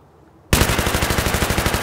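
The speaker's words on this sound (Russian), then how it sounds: "Стреляю по танку впереди." A burst of rapid automatic gunfire erupts suddenly after a quiet moment in the Battlefield video game, loud, close and continuous, firing at a tank ahead.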